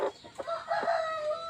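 Backyard chickens cluck nearby while a rooster lets out a drawn-out crow, short clucks at the start giving way to the sustained call.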